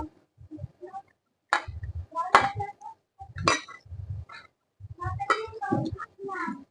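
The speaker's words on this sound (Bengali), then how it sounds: "এখন সব উপকরণগুলো খুব ভালো করে মিশিয়ে নিতে হবে মেখে নিতে হবে" Sago pudding ingredients, about 200 grams of sago, being mixed in a bowl, heard as a series of clinks and scraping knocks of utensil against the bowl, in irregular bursts with short pauses, close and moderately loud.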